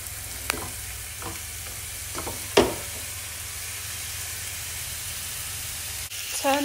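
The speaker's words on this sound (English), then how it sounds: "once all your meat's coated in the paprika, we're just going to fry it off just to colour it" Paprika-coated pork browning in a tablespoon of oil in a pan, a steady sizzle broken by a few scrape and stir knocks, one sharper clatter midway and another near the end.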